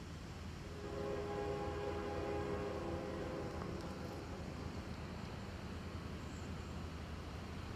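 A distant CSX freight train horn sounds with a sustained tonal blare over a low rumbling train, steady and fairly faint.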